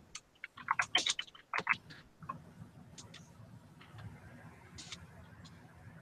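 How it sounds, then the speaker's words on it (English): Computer keyboard typing during a live video hangout comes in quick irregular bursts of close clicking keystrokes, then thins to sparse taps over a faint low hum, with no talking. "I'm typing to Gerald"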